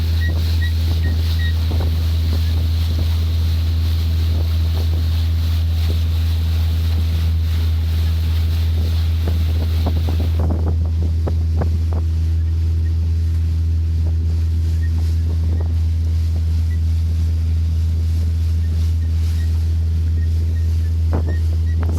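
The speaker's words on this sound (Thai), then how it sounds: "นี่เป็นเสียงเรือโยกตามคลื่นที่กระแทกนะครับ" A boat rocking on the waves of the Nam Ou river, hull struck by water with a steady loud engine drone and wind buffeting, splashes and knocks building then easing midway, no talk.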